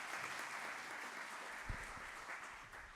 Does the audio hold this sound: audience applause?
yes